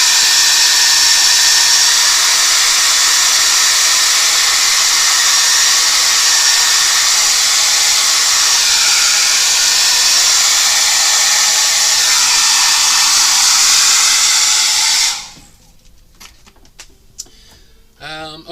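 A hair dryer blows steadily and loudly close by for about fifteen seconds while drying paint on a canvas, then cuts off abruptly, leaving faint handling noises.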